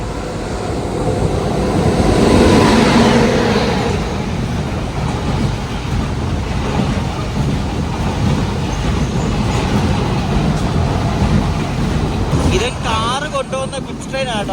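A goods train loaded with cars passing on the Konkan Railway in monsoon weather, a loud sustained rumble that swells and then holds as the wagons roll by.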